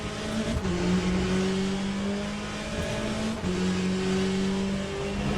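A Corvette C8.R race car's engine in the Le Mans Ultimate sim racing game drones loud and steady onboard, its pitch climbing through the gears with two quick upshift dips, and no voices.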